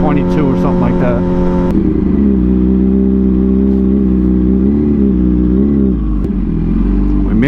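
A motorcycle engine runs steadily at close range, a low rumbling drone with a shift in pitch near the start, holding an even, loud tone throughout the stretch.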